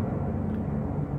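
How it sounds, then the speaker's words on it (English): Low, steady roar of airplanes passing overhead, a broad continuous rumble filling the clip at moderate level with no talk. "I don't know if you can hear those planes flying over me"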